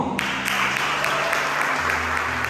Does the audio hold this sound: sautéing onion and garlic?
no